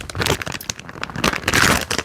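A plastic bag of shredded coconut is crinkled and handled up close in a kitchen, giving a continuous rustling, crackling texture with louder bursts throughout and no talk.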